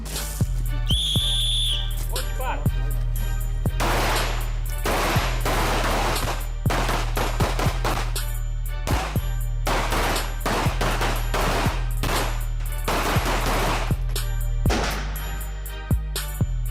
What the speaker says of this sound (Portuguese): Técnicas de tiro. Alimenta uma instrução de pistola, 9mm, e a instrução de fuzil.